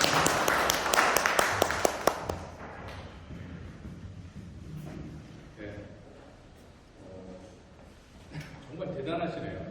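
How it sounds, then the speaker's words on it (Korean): A lecture audience at a climate-crisis and energy-transition class gives a short burst of dense clapping to welcome the lecturer, fading after a couple of seconds into someone speaking. "박수로 환영해 주십니다."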